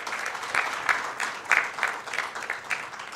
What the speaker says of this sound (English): Please let us have a round of applause for him.